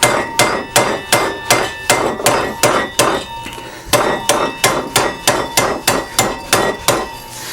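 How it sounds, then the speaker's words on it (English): A soft, small dead blow hammer striking a wrench on a Remington M1903 Springfield rifle receiver, a loud, steady series of about twenty close blows with ringing metallic overtones and a brief pause midway. "I got a nice, it's a soft, small dead blow, so it won't tear up the wrench and not impart shock really onto that"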